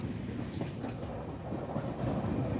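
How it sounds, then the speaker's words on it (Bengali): A passenger train travelling from Guwahati toward Howrah rolls through jungle past Kamakhya, giving a steady rumbling rattle of wheels and carriages heard from on board, with faint rhythmic clatter throughout. "পুরো জঙ্গলের মধ্যে দিয়ে আমাদের ট্রেনটা যাচ্ছে"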